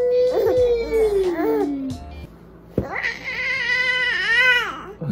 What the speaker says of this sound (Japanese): あ、猫猫なの？